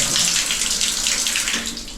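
Water runs steadily from a tap in a bathroom, a continuous broadband splashing hiss that stays loud and even throughout, with no voices.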